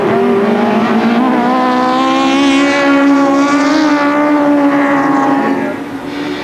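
A Ford Escort special saloon racing car locks its front wheel through the club chicane at Thruxton in a 1981 race. Its engine roars loud and close, the note climbing steadily as it passes, then easing slightly at the end.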